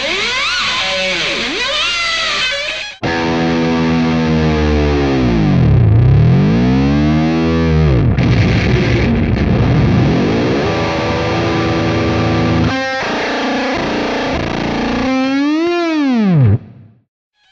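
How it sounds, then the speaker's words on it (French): Heavily distorted electric guitar with a wavering, sweeping modulation effect, sustained chords swooping up and down in pitch, loud and continuous with a few brief breaks and a final rising bend. "on l'utilisait pour donner un effet ondulant, si je puis dire, au son de la guitare"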